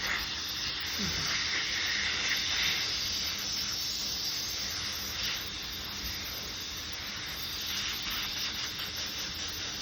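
Air compressor drying electrode glue during EEG electrode setup at an epilepsy monitoring unit, a steady broad hiss running throughout, with faint voices in the background.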